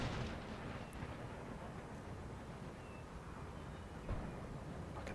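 Artillery booms and rumbling fire from the Empire: Total War strategy game, a dense continuous barrage with a couple of sharper blasts standing out near the start and end, heard alone without talk.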